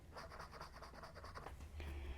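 A wet fountain pen nib on paper, from a blue Lingmo demonstrator, makes a soft, repeated scratchy glide in short rhythmic strokes, close and alone, with a low steady hum underneath.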